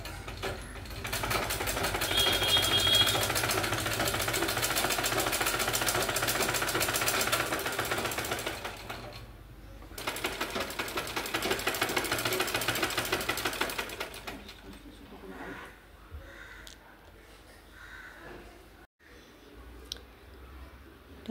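A sewing machine stitches a folded edge on a homemade table cloth, running in loud, steady bursts of rapid mechanical chatter that stop briefly and resume, then fade to quieter, sparser handling noise.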